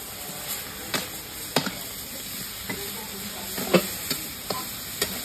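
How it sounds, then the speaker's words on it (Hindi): Village-style desi chicken roasts in a pot with turmeric, chili, salt and home-ground spices, giving a steady low sizzle broken by sharp scraping clinks of a spoon stirring against the pot at irregular intervals. "तो ये देखो भाई साहब बढ़िया तरीके से चिकन जो है ना यहाँ पे भुन रहा है"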